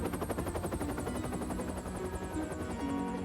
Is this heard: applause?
no